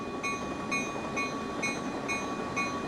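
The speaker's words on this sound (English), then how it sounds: "There's a different horn." Caltrain Baby Bullet locomotive in Train Sim World 2020, heard from the cab: a steady rumbling rail drone with a sustained tonal horn-like note and faint repeating clicks running through it.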